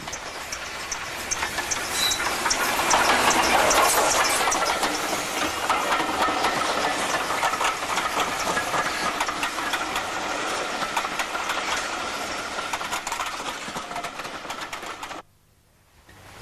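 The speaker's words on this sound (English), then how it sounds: "Passing a home signal that's cleared is LNER K4 class number 3442, the Great Marquis, a sole survivor of its class." LNER K4 class steam locomotive 3442 The Great Marquis passes close by, a loud sustained roar of chuffing exhaust, hiss and rolling wheels that swells early, holds, then cuts off sharply near the end.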